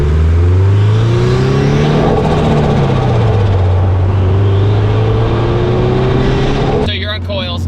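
Turbocharged new Subaru BRZ engine revving loudly and continuously up close, pitch climbing and falling through gear changes, with a brief sharper burst near the end.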